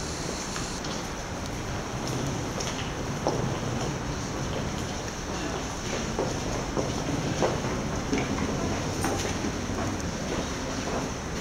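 Class 158 diesel multiple unit 158-885 pulling into Chichester Station, a steady broadband rumble of wheels on rails with faint clicks, heard fairly close and continuous throughout with no speech.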